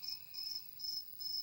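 Crickets chirp loudly and steadily in repeated pulsing bursts, a near, high-pitched insect chorus with no voices over it.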